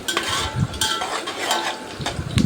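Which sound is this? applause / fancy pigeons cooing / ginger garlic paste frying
ginger garlic paste frying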